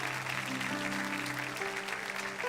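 A church congregation claps for God during a sermon. The clapping is steady and moderately distant, with sustained tonal notes, likely from an organ or keyboard, droning beneath it throughout.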